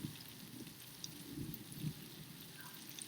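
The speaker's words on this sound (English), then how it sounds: "Oh, we started to have rain on the inside." Rain falling outside an open window and splashing in, a steady soft patter and trickle of drops with a few louder splats, fairly faint throughout.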